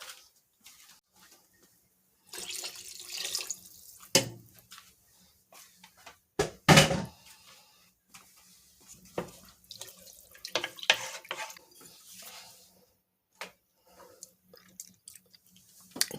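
Intermittent bursts of water splashing and running from a tap into a container, with clinks and handling sounds between the pours.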